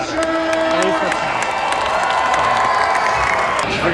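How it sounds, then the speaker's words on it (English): Crowd at a minor league baseball game cheering and applauding, a dense wash of clapping and shouts with voices mixed in, steady and moderately near for a few seconds. "Big round of applause for you."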